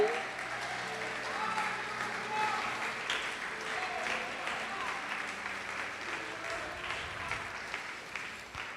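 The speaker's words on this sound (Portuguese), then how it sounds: "Você pode aplaudir o Senhor Jesus por isto?" Church congregation applauding during a Portuguese-language sermon, a steady broad wash of clapping that holds at an even level for several seconds, with a voice faintly present underneath.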